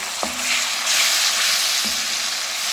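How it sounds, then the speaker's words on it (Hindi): Ginger garlic paste frying in oil with golden onions, a steady broadband sizzle running the whole time with two brief clinks of a utensil against the pan. "अब इसमें हम 1 टेबल स्पून भर के जिंजर गार्लिक पेस्ट"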